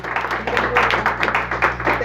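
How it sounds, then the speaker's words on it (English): Scattered audience clapping at a community map tour event in Fairfax County, uneven claps rising and falling over a low steady hum, with some speech-like sound mixed in. "I need more of an applause than that, folks."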